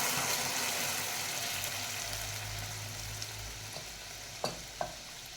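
Boiled lentils go into a hot pan, followed by a faint, steady sizzle and bubbling close by, with a couple of brief taps of a spoon near the end and no talking.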